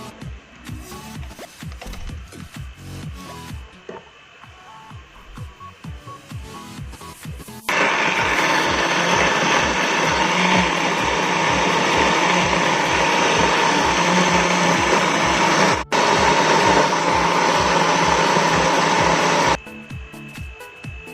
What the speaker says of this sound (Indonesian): Semua bahan kita blender